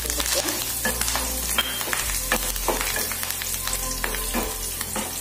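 Curry leaves sizzle and crackle in hot oil for a sambar tempering, a loud, continuous frying hiss with small pops and occasional stirring, no talking.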